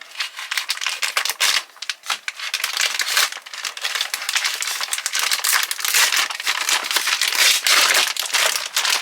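Thick plastic MRE bag being torn open, with loud, close crinkling and ripping in uneven bursts that go on throughout, and no talking.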